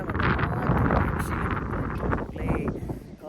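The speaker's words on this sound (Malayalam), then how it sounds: "നല്ല കാറ്റാണ്." Strong cold wind blows outdoors near tea plantations in Ooty, buffeting the microphone in loud, uneven gusts that ease and return, with faint talking underneath.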